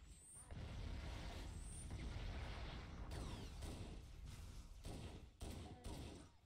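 A sticky grenade explodes in the video game Halo, heard as heavy, booming thuds and a dense rumble among other combat noise, with several sharp blasts recurring later on.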